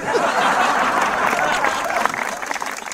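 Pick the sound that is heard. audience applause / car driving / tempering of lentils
audience applause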